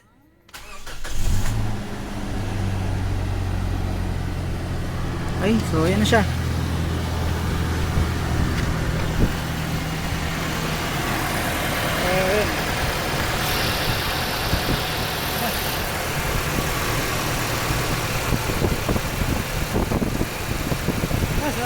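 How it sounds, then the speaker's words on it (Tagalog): A Toyota Fortuner with the 2TR-FE gasoline engine cranks and starts, then settles into a steady, loud idle that continues throughout, with brief speech over it. "pandarin ko na yung makina"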